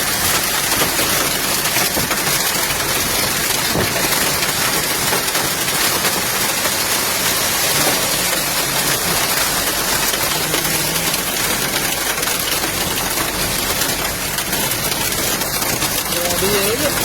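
Hailstorm in Bocaue, Bulacan, with hail and rain falling in a dense, continuous hiss and patter that holds steady the whole time, as voices talk faintly beneath it.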